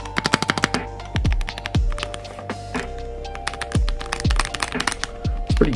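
Typing on a Machenike K600 Lite keyboard with a translucent case, a steady run of sharp, close mechanical key clacks in quick bursts with occasional heavier thuds, heard alone without any talking.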